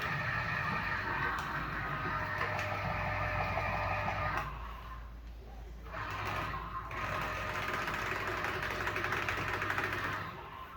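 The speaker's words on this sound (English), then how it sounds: "this is a smaller machine for this, so it's going to take some time, but it will still juice" A small juicer machine runs with a steady, close motor whir and rattle, briefly dropping in level midway before resuming its continuous drone.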